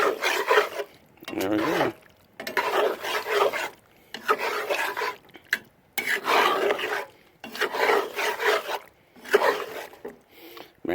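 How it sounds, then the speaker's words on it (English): Cheese is stirred into pasta shells in a pot over a camp stove, making repeated rough scraping strokes in about six rhythmic bursts with brief pauses between them. A short spoken remark comes near the end. "Stir in the cheese."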